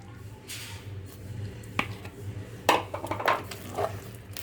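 Jaggery is stirred into mashed rice for sweet pongal. A spoon knocks and scrapes against the pot in scattered clinks, with soft, squelchy stirring sounds close by and no talking.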